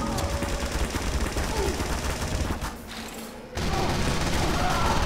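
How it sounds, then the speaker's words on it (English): Stock minigun firing in Team Fortress 2, a dense continuous rattle of rapid gunfire that drops away briefly near the middle and then resumes just as loud. "the stock minigun has the faster attack interval, allowing the stock to deal more damage per second"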